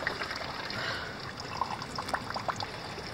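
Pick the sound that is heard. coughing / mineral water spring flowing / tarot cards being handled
mineral water spring flowing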